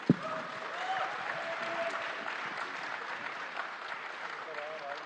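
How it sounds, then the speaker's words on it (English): An audience at a film-industry panel discussion in a large hall gives a round of applause, a faint, distant, even patter of clapping that continues steadily after one sharp knock at the start. "I think it deserves another round of applause"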